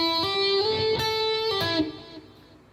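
Guitar plays a short intro phrase slowly, a few sustained notes joined by hammer-ons and slides, ringing clearly and stopping dead near the end, close and alone.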